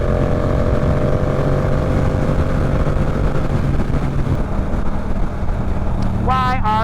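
Motorcycle engine droning loud and steady while riding, with wind roar throughout and a rising rev near the end as gears shift.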